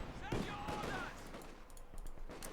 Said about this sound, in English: the BARs help a ton.